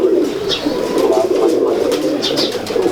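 Pigeons cooing steadily and close by, a low continuous throaty murmur with a few brighter chirps over it, no talk.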